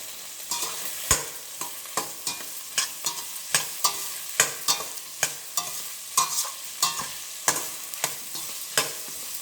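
A spoon stirs chopped vegetables, green chillies and salt frying in oil in a pan for vegetable upma, giving repeated scraping knocks about once a second over a steady sizzle, close and clear with no talking.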